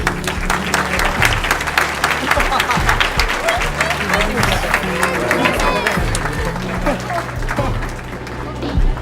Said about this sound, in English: Please give a round of applause for this.